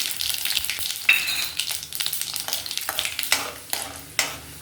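Mustard seeds, cumin, urad dal and chana dal sizzle in hot oil while being stirred, crackling and spattering in uneven bursts with sharp pops, loud and close.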